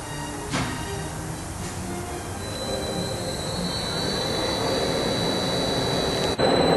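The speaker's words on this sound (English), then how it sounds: "Turn on spindle." A metal lathe spindle on an ACER Dynamic series machine starts and runs with a loud continuous mechanical whine and steady hum, a few clicks near the start and a clunk at the end.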